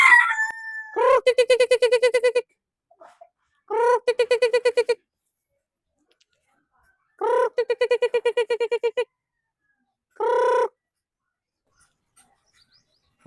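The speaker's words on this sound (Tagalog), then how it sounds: "Tara guys, tawagin muna natin yung mga sisiw natin." Chickens on a small farm: a rooster crows loud and close several times in separate long calls, with a few soft clucks between and quiet gaps in a rural yard.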